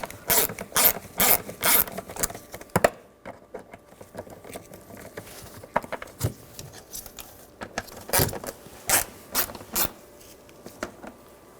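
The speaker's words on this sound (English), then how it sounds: "use a 10mm socket, loosen up these screws" A 10mm socket wrench loosens the airbox screws on a 2021–2023 Jeep Grand Cherokee L, with bursts of quick ratcheting clicks broken by pauses and small handling knocks, close up and with no talking.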